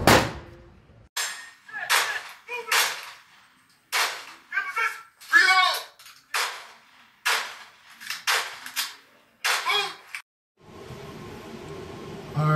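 Single pistol shots from a Springfield XD Elite fitted with a CAA micro conversion kit crack out one by one at an uneven pace, about a dozen sharp reports with brief gaps, ending in a hiss of background noise.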